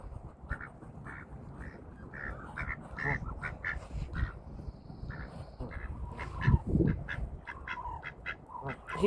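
Ducks quack repeatedly while waddling toward a pond, among them one with a broken wing, with geese nearby: a chattering run of nasal calls, some near and some farther off, over soft outdoor background noise.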